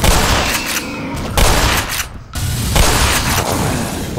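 A grenade blast in the Black Mesa video game, sounding as a loud, dense burst of booming, crackling noise that fills most of the clip, with a brief dip before the roar resumes.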